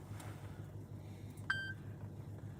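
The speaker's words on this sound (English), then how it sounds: "the beep on this phone is just confirming" A single short electronic phone connection beep rings out once inside a 2025 Honda Civic Sport, clear above a steady low engine hum, with no talking.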